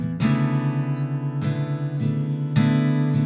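An acoustic guitar recorded through an SM57 dynamic microphone strums three chords in a slow rhythm, each struck firmly and left to ring, close and clear with no talk.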